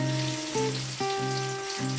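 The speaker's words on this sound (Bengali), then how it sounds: "পেঁয়াজগুলো বেশ লাল লাল করে ভাজা হয়ে এসছে" Onions frying in a pan until reddish-brown, giving a steady close sizzle with tonal hum and brief shifts where stirring interrupts, no talk.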